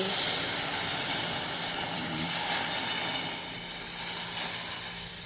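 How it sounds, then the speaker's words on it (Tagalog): Broth poured into a hot pot of chicken tinola with potatoes and carrots, giving a steady steaming hiss and sizzle that holds close and fairly loud throughout and eases a little toward the end. "Tapos ato nang ibutang ang atong sabaw."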